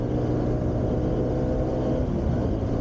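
A Modenas Z15GT motorcycle engine pulling steadily at speed in the upper gears, a loud continuous drone with wind rush, close and unbroken with no talk.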